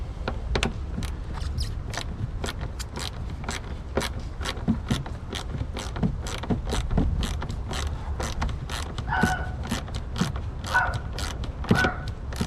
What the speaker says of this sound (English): I got my air filter and I got my ratchet. So starting screwing.